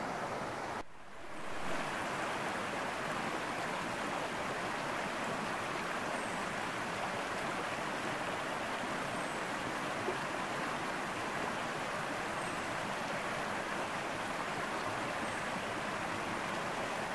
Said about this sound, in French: vous voyez le petit ruisseau en contrebas